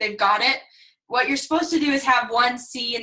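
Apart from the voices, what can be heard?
None of the usual background noises is heard.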